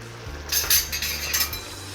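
A utensil stirring goulash in a cooking pot, giving a short run of bright metallic clinks and scrapes over a low steady hum, close and fairly loud, with no voices.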